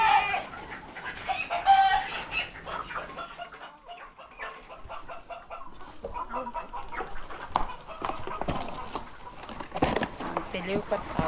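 Chickens cluck and squawk nearby while being caught, agitated calls rising and falling, with people talking over them.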